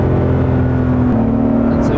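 Inside a Porsche GT2 RS MR on the Nürburgring, a loud, steady engine drone fills the cabin with a shift in pitch partway through, as people talk over it.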